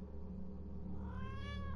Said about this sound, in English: Yes, I hear you purring.